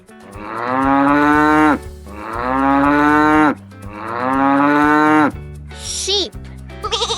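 A cow moos three times in long, loud, drawn-out calls, each lasting nearly two seconds, followed by a brief higher-pitched sound at the end.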